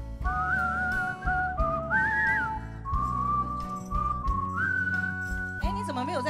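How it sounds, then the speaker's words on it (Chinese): Several people whistling a melody together in a studio, long sustained whistled phrases with pitch slides, steady and fairly loud, with a brief warbling flourish at the end. "前面有那个吹口哨嘛？ 对，特殊的乐器， 吹口哨哦，前面。 来，大家一起吹。"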